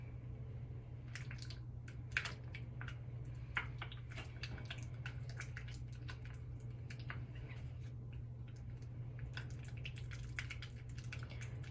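Wet, squishy stirring of a bouncy ball mixture as it forms a glob, soft irregular clicks and squelches close up over a steady low hum.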